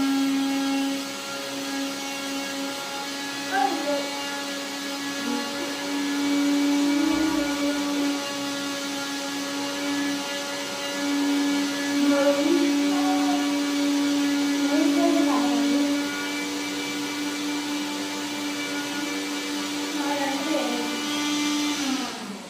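A steady, loud motorized whine runs continuously throughout, like a mixer grinder at full speed, with faint voices now and then underneath.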